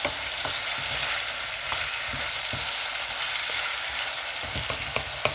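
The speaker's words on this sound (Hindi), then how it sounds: "इसको एक बार अच्छी तरह से हिला के" Lamb mutton karahi with tomatoes sizzles loudly in a pan while a utensil stirs it, scraping and clinking in irregular strokes over the steady frying hiss.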